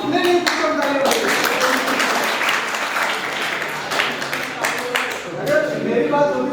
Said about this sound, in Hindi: नहीं तालियां बजाइए।